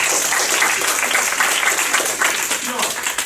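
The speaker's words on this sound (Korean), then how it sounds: "박수" Audience applause after a student reads a poem aloud during a school skit, a dense, loud wash of clapping from a crowd, fading slightly near the end.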